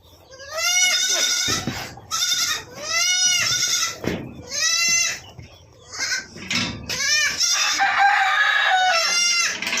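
Kadaknath chickens on a farm crowing again and again, loud and near, with overlapping cock-a-doodle calls, goat-like bleats and clucking in a busy, continuous chorus.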